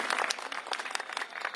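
Crowd at a public political rally breaking into loud, sustained applause, dense overlapping claps filling the whole stretch with steady energy and no voice on top.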